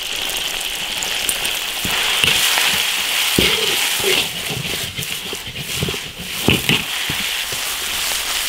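Pig lung sizzles and crackles in oil with chili and spices in a large iron wok, a steady hissing fry broken by scraping clacks of the spatula at an irregular pace.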